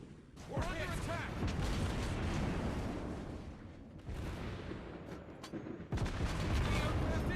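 Naval gunfire from the USS Worcester, a US light cruiser in World of Warships Blitz, sounds as dense, continuous booming salvos with rumbling blasts layered on top of each other, loud and close, with brief gaps.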